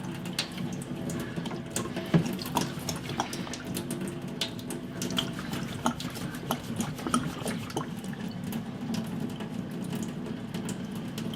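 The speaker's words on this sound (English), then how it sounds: "Let some of this liquid out the tap." Liquid runs steadily from the tap of a Pinter home brewing keg, a continuous close trickling and splashing flow with small bubbling ticks, no voices.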